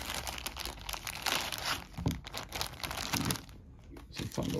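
Plastic bags holding the components of a Pandemic board game crinkle and rustle close up in repeated handling bursts, with no talking.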